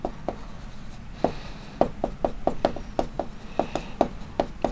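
A pen or chalk writing numbers during a Class 6 maths lesson on ratio and proportion, a series of quick close taps and strokes in irregular bursts over a steady room hum.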